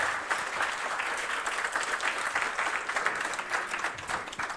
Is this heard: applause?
yes